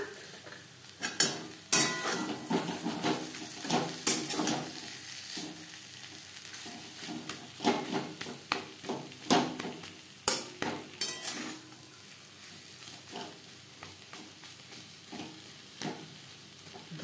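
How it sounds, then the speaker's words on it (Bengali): Spiced mashed potato filling for masala dosa is stirred and fried in a pan: a steady sizzle under irregular scraping and clattering of the spoon, loudest in the first half, with no talk. "মশলার সাথে আলু বেশ ভালো করে মিক্স করে দেব।"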